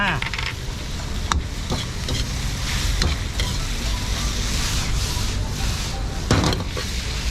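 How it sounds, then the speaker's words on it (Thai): Spicy stir-fried wild boar sizzles loudly in a hot pan, with steady frying hiss and several sharp scrapes and clanks of a spatula stirring against the metal, close and continuous throughout. "หลังจากที่เราผัดไปสักพักหนึ่งแล้วนะครับ ผมจะมาใส่นมนะครับ"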